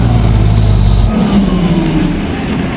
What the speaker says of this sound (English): Got a fire truck.